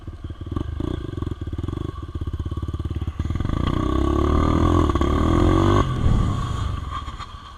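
A dirt bike engine running close by, starting with a rapid idling putter, then revving into a loud sustained roar that rises in pitch before cutting back, no talking.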